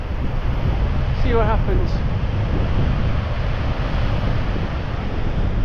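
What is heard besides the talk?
wind on the coast while fishing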